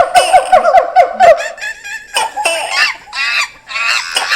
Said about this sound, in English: the sounds of those crazy monkeys, ducks, and iguanas bouncing around Light Talk Central